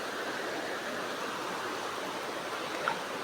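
Rainwater runs in a forest stream with a steady, even rushing flow that stays constant throughout and has no voices over it.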